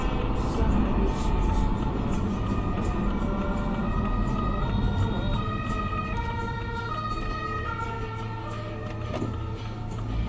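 An ambulance siren wails continuously through heavy traffic rumble, holding steady without fading.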